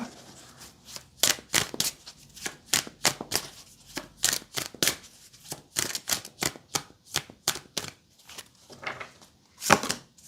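Tarot cards being shuffled close up: quick, crisp riffling bursts in an irregular rhythm, with short pauses between them.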